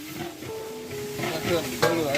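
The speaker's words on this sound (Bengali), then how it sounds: "এই যে জিরে ভাজা হয়ে গেছে, ওই যে ধনে ভাজা চলতেছে" Cumin and coriander seeds frying in a pan make a light, crackling sizzle with stirring scrapes that grows louder near the end. A voice speaks faintly underneath.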